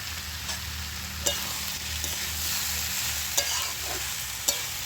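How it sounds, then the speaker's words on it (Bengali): Ash gourd curry with green chilies sautés in a pan, a steady close sizzle and frying hiss broken by a few sharp scrapes and taps of a stirring utensil, with no voices. "এটা দিয়ে আমি মিনিট 5-এর মতো কষিয়ে নেব"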